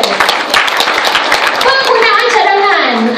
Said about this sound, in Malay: Tepukan lagi sekali untuk Alkal.